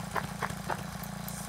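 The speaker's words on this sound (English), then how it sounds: "Oh yeah, lawnmower." A lawnmower engine in a video game idles with a low, steady chugging hum and a few soft rhythmic puffs on top, moderate in level and heard on its own.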